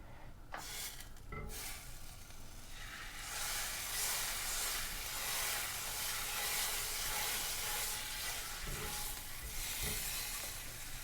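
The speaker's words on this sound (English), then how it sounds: "Now we are going to sear them on each side." Beef short ribs searing in a hot pan, giving a steady, broad sizzle that swells and holds, close up and fairly loud, with a few scrapes and knocks near the start and no talking.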